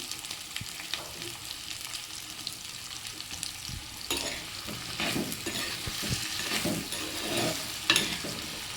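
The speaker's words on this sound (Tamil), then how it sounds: "பாகக்காய் போட்டு நல்லா வதக்க போகிறோம்" Bitter gourd sautés in a pan with a soft, continuous sizzle, broken by intermittent scraping and clacking from stirring that grows a little busier toward the end.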